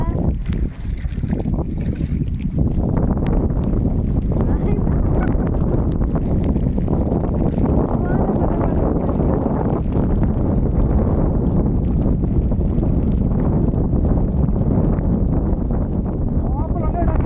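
Strong headwind roaring and buffeting the microphone almost continuously, with a boat engine rumbling underneath on a pond and a voice speaking through it.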